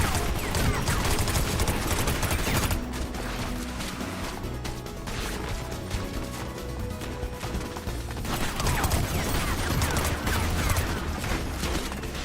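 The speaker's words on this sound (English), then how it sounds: "The first shot you take launches a shotgun bullet." Shotgun blasts from a Simpsons video game, loud crashing bursts around the two- and eight-second marks over a dense, constant game soundscape with no talking.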